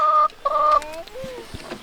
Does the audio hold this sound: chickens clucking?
yes